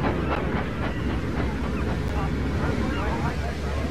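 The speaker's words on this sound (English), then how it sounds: "This is the train the railwaymen call the Flying Kipper." A steam train, the fish train called the Flying Kipper, rumbling along steadily in a constant roar with faint rhythmic clatter, loud and close, alone and without any voices.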